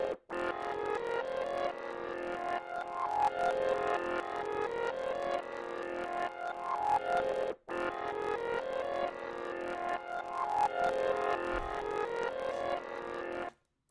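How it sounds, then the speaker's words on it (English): A chopped piano loop sample, reversed and muffled to sound underwater, plays as a smeared, swelling pattern that repeats once after a sharp cut midway, quiet and without speech. "I literally just reversed it, made it sound underwater, and I chopped it up and sampled it so it sounds like this."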